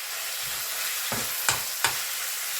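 Spoon stirring salted, peppered potato filling in a sizzling pan, a steady frying hiss broken by three or four sharp scraping knocks, close and alone.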